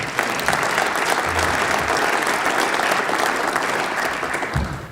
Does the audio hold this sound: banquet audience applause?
yes